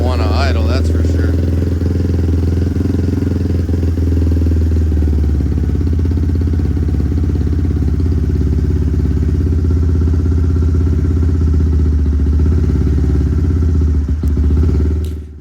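A big bore Honda Grom motorcycle engine sits on fast idle while warming up, a loud, steady, close drone that runs without a break, with talking over it, and it cuts off near the end.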